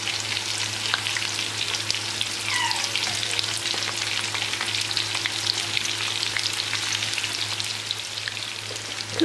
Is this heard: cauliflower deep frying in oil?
yes